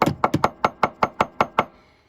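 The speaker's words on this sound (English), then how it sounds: "they use a little tapping hammer" A small tapping hammer knocks in a shed, about a dozen sharp close taps with a quick run at first and then an even, steady rhythm before stopping; no one speaks.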